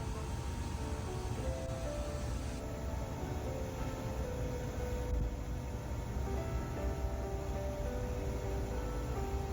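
Interior rumble of the RAKU Limited Express running between Osaka and Nara, a steady, loud low roar with faint tonal whines rising and shifting as the train travels.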